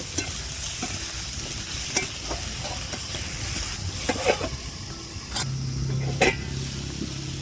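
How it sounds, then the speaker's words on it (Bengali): Mixed vegetables, including eggplant, fry in a pan for a noty greens ghonto, giving a constant close sizzle broken by scraping stirs and sharp utensil clicks against the pan, with no talking. "সবগুলো সবজি কিছুক্ষণ ভেজে নেব এরপর স্বাদ মতো নুন দিয়ে দেব"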